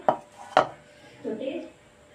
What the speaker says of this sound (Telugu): ఉల్లిపాయ ముక్కలు పచ్చిమిరపకాయలు ఇలా కలుపుకోవాలి